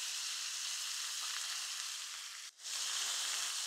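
A paste of ginger, garlic and green chilli sizzles in hot oil, giving a steady, bright crackling hiss with one brief dip as it is stirred.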